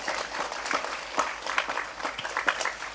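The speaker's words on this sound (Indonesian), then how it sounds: "Tepuk tangan dulu dong." A crowd at an Islamic religious gathering in Banjarsari bursts into applause, with dense, steady clapping that swells and fades in small waves for the full three seconds and no clear talk over it.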